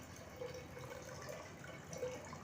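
Tamarind water is poured into a pot of cooking curry with mashed lentils, giving a faint, soft trickle and light splashing of liquid close by, heard alone with no talk.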